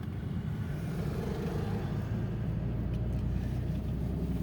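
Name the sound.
car engine accelerating while shifting into third gear during a driving lesson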